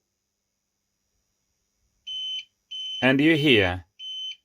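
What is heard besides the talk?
UPS backup power beeping after power interrupted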